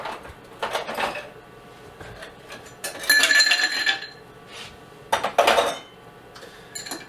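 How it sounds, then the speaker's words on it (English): Ice cubes dropped into a glass while building a bourbon Old Fashioned cocktail, giving a few bright clinking, rattling bursts separated by short pauses, close and fairly loud. "Alright, then we're going to put in ice."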